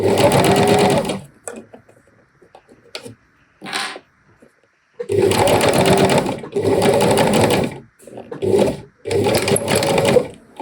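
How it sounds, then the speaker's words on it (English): Sewing machine stitching in loud, rhythmic bursts separated by pauses, with a short run early on and several longer runs later. "It's back in the machine. Stitch again."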